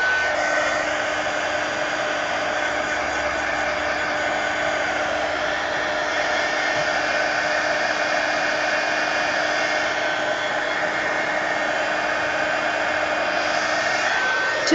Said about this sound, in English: So let's go ahead and dry this.